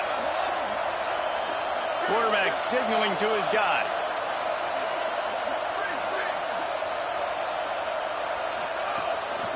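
Loud, constant stadium crowd noise in an NCAA football game, a dense wash of cheering that a commentator briefly talks over early on.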